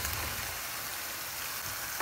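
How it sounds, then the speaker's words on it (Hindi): Steamed lentil vadiyan made from mash and chana dal fry with masala in a hot pan, giving a steady, close sizzle with faint stirring scrapes. "अब हम बड़ियों को भी मसाले के साथ भूनेंगे"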